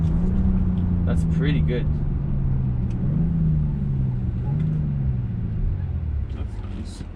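BMW X6 40i M Sport (2020) with its six-cylinder engine accelerating on an empty road, a steady low engine drone rising and falling in pitch throughout, with someone talking over it.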